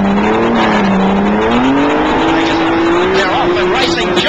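1985 Australian Touring Car Championship cars roar away from the start at Lakeside near Brisbane, Commodores among them, engines revving hard and rising in pitch together, loud and close under excited commentary.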